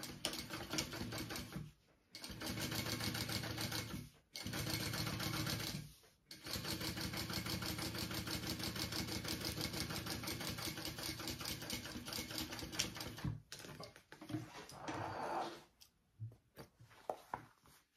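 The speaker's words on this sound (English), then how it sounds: "we're going to top stitch on that lining piece up at the top through our seam allowance" A sewing machine top stitches through a bag lining and seam allowance, running in long steady buzzing stretches broken by a few short pauses, close and alone.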